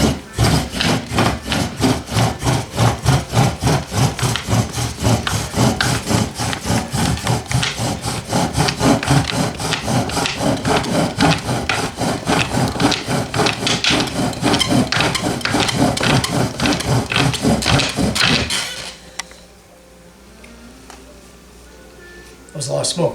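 Crutch drill spun hard against wood to make a friction fire, a steady rapid back-and-forth rubbing and grinding for about eighteen seconds before stopping, close and loud with faint background afterward.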